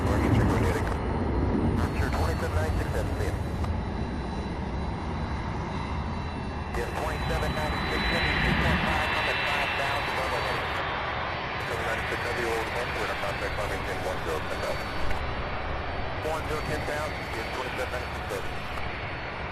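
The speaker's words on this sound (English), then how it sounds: "We have another 767 heading to San Antonio, Texas." A Boeing 767 jet roars steadily at Louisville's SDF airport during plane spotting. The broad engine rumble continues throughout, and voices talk over it.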